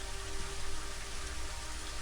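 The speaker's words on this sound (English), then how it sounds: "Just wanted the rain to stop." Steady rain in the video game Daggerfall Unity hisses evenly and continuously, a dense wash of drops with a faint low hum beneath and no voices.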